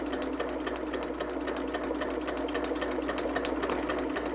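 A sewing machine stitches through fabric seams where they cross, giving a rapid, even, mechanical patter close up with a low motor hum underneath and no voices.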